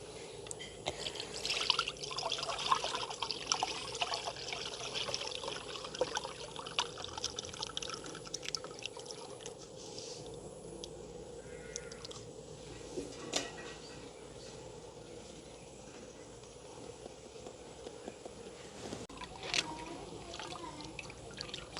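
Liquid being strained through a fine-mesh sieve while making a village-style sweet from wheat flour, with a steady soft pour and dribble of liquid, close and moderately loud at first, then thinning to a faint trickle with occasional drips.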